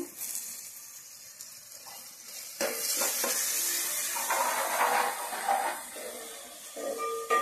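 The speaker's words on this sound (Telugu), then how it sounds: "చూడండి టమాటాలు ఉల్లిపాయలు ఈ విధంగా అయితే బాగా వేగుతూ ఉన్నాయి" Tomatoes and onions sizzle in a pan with curry leaves being added, a soft crackle that jumps to a louder, denser frying hiss partway through, with stirring scrapes and no talk.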